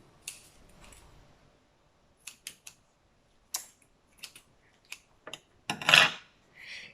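A few sharp, brief snips of scissors cutting ribbon in a quiet room, followed by a louder rustling crunch of material.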